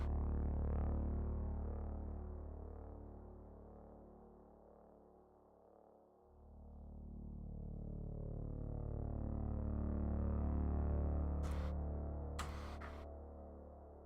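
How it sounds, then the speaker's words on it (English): A sustained synthesizer drone with delay and reverb, a low steady hum that dips briefly midway then swells back, closing with a couple of short bright bursts on top; no talking. "It's kind of almost a drone."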